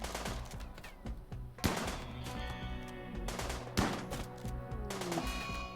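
Colonists shooting in a RimWorld raid produce scattered gunshots, a few sharp louder cracks standing out over quieter rapid shots, moderately loud with game sounds between.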